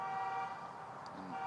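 Inside a Slenderman video game, a car passes with a steady tonal horn-like toot over a low motor hum, faint and brief, with no talking.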